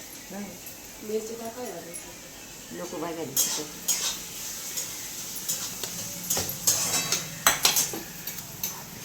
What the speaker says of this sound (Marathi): तेल टाकलं भेंडी फ्राय करून घेतली